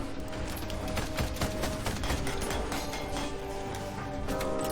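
Gunfire from the Ironcast video game, rapid continuous volleys of dense crackling shots layered over game noise, loud and sustained for the whole stretch.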